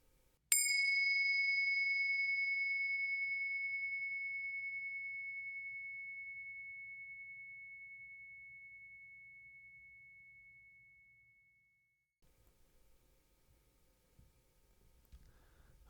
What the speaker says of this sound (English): let's settle in together with the sound of the bells.